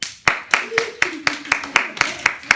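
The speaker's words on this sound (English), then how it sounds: "Everybody should be clapping him all the way to the left hand." About ten sharp, evenly spaced claps ring out in a steady rhythm, close and distinct, with a faint voice murmuring underneath.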